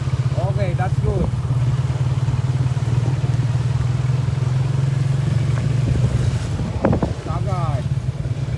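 A big bike motorcycle engine idles and runs steadily at low revs during riding training, a constant drone throughout, with an instructor's voice speaking over it near the start and end.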